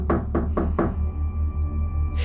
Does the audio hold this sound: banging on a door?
yes